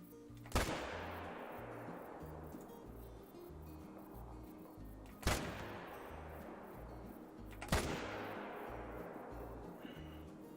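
Three loud gunshots ring out several seconds apart in a hunting video game, each one a sharp crack trailing into a long echoing decay over a low, steady background hum.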